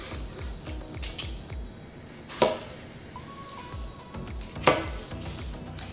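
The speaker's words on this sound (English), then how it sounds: "when I cut up everything, I'm gonna leave them in pretty big chunks" A knife chops vegetables into large chunks on a cutting board, a quiet run of regular taps with two sharper, louder chops standing out.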